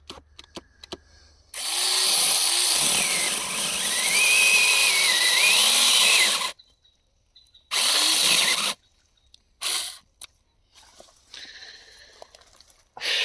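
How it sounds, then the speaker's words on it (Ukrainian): Makita 36-volt cordless mini saw cutting in loud, whining bursts, one long cut of about five seconds, then shorter spurts with silent gaps between them. "Орієнтовно ось так будете різати, коли купите макіту на 36 вольт"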